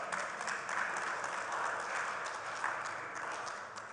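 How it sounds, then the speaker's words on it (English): Sustained clapping from an audience at a stakeholders workshop, dense and even throughout, with no voices over it. "I thought somebody started a clap. We can finish it up."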